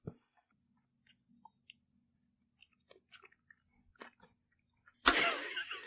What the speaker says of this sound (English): So just chew a little bit. yeah, give it a little chew.